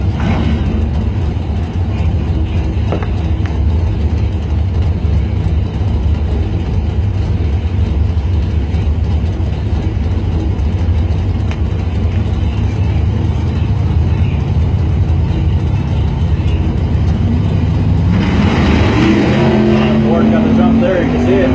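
A 71 Camaro drag racing down the strip, a loud continuous engine roar throughout with a rising pitch near the end as the car pulls away, with talk over it.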